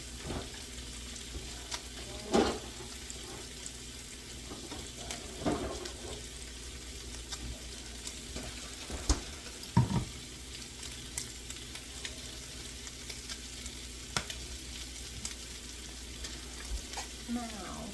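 Broccoli and steak stir-fry sizzles in a pan with a continuous low frying hiss, broken by occasional scrapes and clanks from stirring, moderately close and with no talking.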